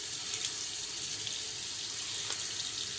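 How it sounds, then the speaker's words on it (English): A bathroom water tap runs in a steady, soft hiss while a face is rinsed at the sink, with faint splashes and drips rising now and then over the continuous flow. "Okay, I'm going to rinse off the face now."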